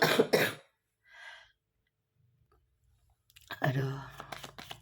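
A single person coughs a few times up close during a quiet pause in an Indonesian tarot reading, with a brief throat sound after, then speech resumes.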